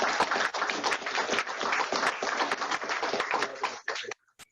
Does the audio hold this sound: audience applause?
yes